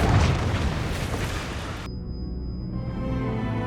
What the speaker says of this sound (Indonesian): Dan Caesar meledakkan bahan kimia yang menghancurkan tembok beserta para pasukan militer.